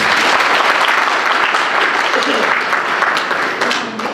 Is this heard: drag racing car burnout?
no